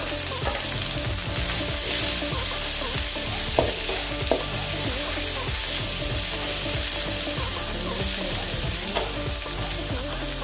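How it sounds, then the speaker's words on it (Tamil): Chopped tomatoes tipped into frying onions in a pan, a continuous loud sizzle with repeated scraping stirs and occasional clinks, no talking. "இதில் இப்போ வந்து தக்காளி அறுத்து வச்ச தக்காளியை நம்ம போட போகிறோம்."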